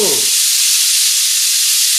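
Pressure cooker whistling while chicken curry cooks, a steady loud hiss of escaping steam held for the full two seconds.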